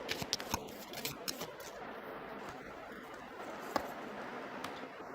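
Tarot cards are shuffled by hand, soft quiet riffling and flicking taps clustered at first, then sparser, with one sharper snap near the end, close and faint.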